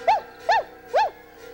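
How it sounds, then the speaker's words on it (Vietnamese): Three loud, evenly spaced barks or yelps from a dog nearby, each a short rising-and-falling cry with a steady low hum underneath and a faint fourth call trailing at the end. "Cái gì? Thì ra là con chó."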